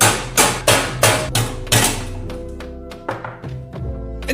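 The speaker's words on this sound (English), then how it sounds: "Gently remove the hard drive support." Hard drive support being pulled out of a PC case, a run of hard metallic knocks and clanks, close and ringing, slowing into lighter rattles.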